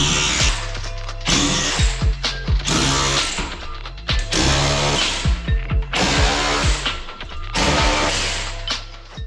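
A power ratchet or impact tool spins out 10 mm bolts from a front strut brace on a Honda Civic, in four bursts of loud whirring and rattling with short pauses between them.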